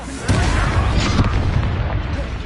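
A booming magical explosion from a Bombarda spell in the Hogwarts Legacy video game, a loud sustained blast with rumbling low end that lingers for about two seconds.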